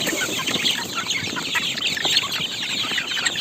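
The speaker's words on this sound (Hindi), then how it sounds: "आप देख पा रहे हैं कि सारी मुर्गियाँ भूखे हैं, तो काफ़ी इधर उधर भाग रही हैं खाने के लिए" Chickens on a poultry farm cluck and squawk continuously, a dense overlapping flock noise close by with no talk over it.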